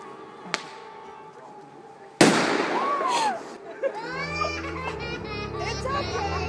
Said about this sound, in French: utiliser des feux d'artifice.